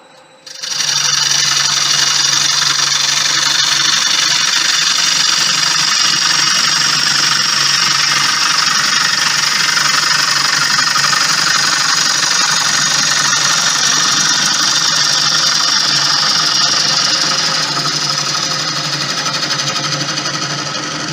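Steady, loud whirring hum of a wood lathe spinning throughout as a Crown Crio gouge cuts into wood, a continuous droning tone with no pauses, and nobody talks.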